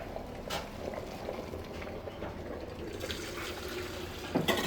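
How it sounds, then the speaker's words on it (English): Pot of pasta water at a rolling boil, a steady bubbling and hissing churn with a few louder bursts of bubbles, heard close and alone. "As you can hear, our pasta water just came to a boil"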